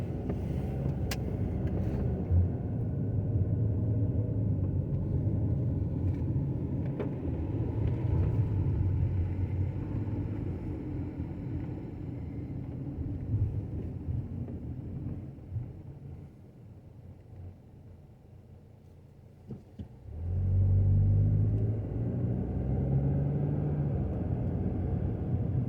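Car driving slowly around a small town in Abbeville, Alabama, heard from inside as a steady low engine and road rumble that dips briefly, then swells louder as the car accelerates near the end.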